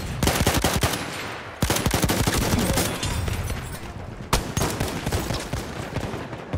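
Rapid automatic gunfire in Battlefield 1, loud and close, firing in dense sustained bursts with a couple of sharp heavier blasts breaking through.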